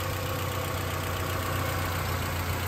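Idling engine of a 1994 Honda Accord Cielo, a smooth, steady low hum with no speech, recorded close.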